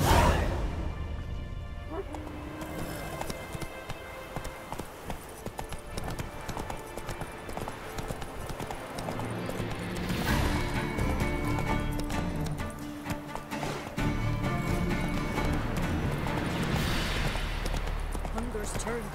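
Roach, a horse in the game The Witcher 3, gallops in a steady, rapid hoofbeat rhythm under orchestral game music. A voice speaks briefly over it, and a short burst of whooshing action passes through.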